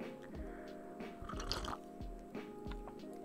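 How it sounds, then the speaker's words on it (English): Coffee being sipped close to the microphone, a few short wet slurps standing out over a steady tonal hum in the background. "you probably heard me sipping my coffee."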